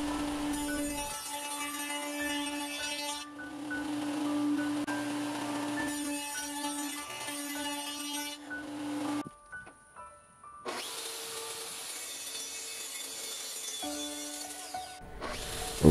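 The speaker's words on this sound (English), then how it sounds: "I'm cutting the dados on all 4 sides of the chest." A power tool cutting dados in wood for the sides of a chest, loud whining and rasping cutting passes in long stretches broken by brief pauses, close and steady with no talking.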